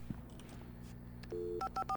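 A telephone dialed in the video game Alan Wake: a faint handset hum, then a string of short beeping keypad tones, several distinct presses in quick succession, quiet and close.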